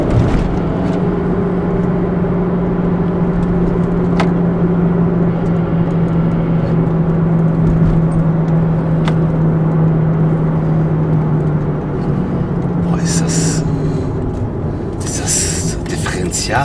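A car drives steadily with a persistent droning whine or hum underneath the engine and road noise, an unwanted noise suspected in the transmission, with brief clatter near the end.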